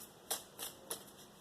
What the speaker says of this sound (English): we'll give it 3 more shuffles